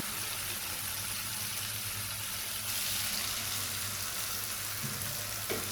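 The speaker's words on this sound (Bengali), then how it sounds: "আদা বাটা, খুব ভালো মতো ভেজে নেব" Ginger paste fries in a pan for a vegetarian fish-style curry, a steady soft sizzle at close range with faint stirring, no talking.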